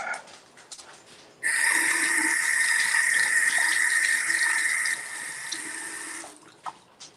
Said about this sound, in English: I was washing my hand in the sink right there, that dirty sink